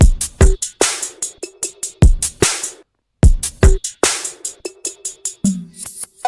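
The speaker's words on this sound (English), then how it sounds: "Here's what this drum loop sounds like." A punchy drum loop for a type beat, with crisp, bright hits in a steady rhythm, briefly dropping out before the beat resumes, loud and close with no talking.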